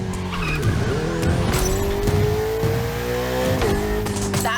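Ferrari 488 racing in The Crew Motorfest game, a loud close engine roar shifting pitch through gears with tire squeal and skidding throughout.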